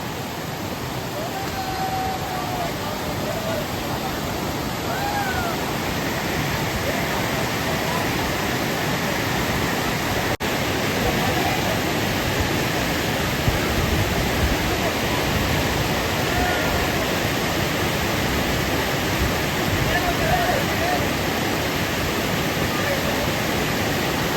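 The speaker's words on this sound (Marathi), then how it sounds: "इकडे मोठा एक धबधबा आहे" A large waterfall in a Konkan village where people bathe roars in an unbroken, even wash of rushing water, with people talking over it.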